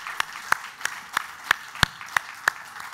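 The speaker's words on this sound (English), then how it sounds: "I was going to say a big round of applause." Sparse, slow clapping from a small audience at a talk, single sharp claps evenly spaced about a third of a second apart, fairly quiet with no speech over them.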